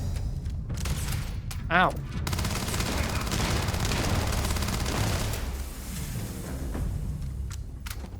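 Gunfire in the Starfield video game: dense, sustained bursts of shots fill the whole stretch alongside game music, with a man briefly crying out in pain partway through.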